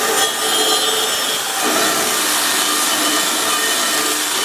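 Drill spinning a wire wheel against a rusty GM truck wheel during restoration, a loud, steady broadband scraping whir with slight grinding variation throughout, no talking.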